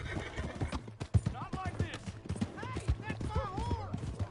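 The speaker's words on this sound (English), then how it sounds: "Hey, that's my horse!" In the Red Dead Redemption 2 video game, a horse whinnies several times close by over quick clip-clopping hooves, with people talking in the background.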